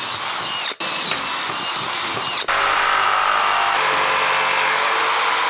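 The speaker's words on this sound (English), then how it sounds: "I'm gonna have to drill a hole and then jigsaw it freehand" A power drill whines loudly while boring a hole for a backyard dirt-jump build, its pitch shifting and briefly cutting out, then a jigsaw cuts freehand with a steady, harsh buzzing roar.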